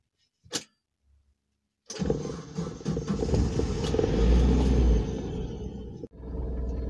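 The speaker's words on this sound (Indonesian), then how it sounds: "kita mau manasin mobil ya" A click, then a car engine left unused for eight years cranks and catches, settling into a loud, steady warm-up idle rumble that revs briefly before evening out.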